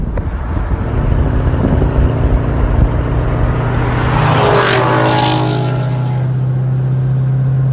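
A 2019 Chevrolet Camaro SS races a 2015 Ford Mustang, with a steady engine drone that swells into a loud rising rev and pass-by around the midpoint before settling back to a low hum.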